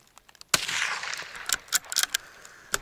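A TOZ-78-04 rifle fires a supersonic Klimovsk cartridge outdoors in drizzling rain: one sharp, loud crack followed by a short reverberant tail and several fainter clicks and knocks from handling, with no talk.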